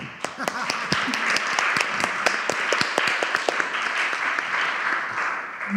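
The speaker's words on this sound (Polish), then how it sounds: "Brawa!" Audience applause at a panel event about books in theatre, a steady stream of hand claps with sharp individual claps standing out from the crowd, held at an even level.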